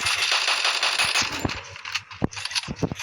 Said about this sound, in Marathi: त्याच्या मागून पुढून घालतो मी आता गोळ्या